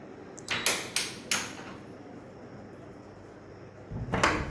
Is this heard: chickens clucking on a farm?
no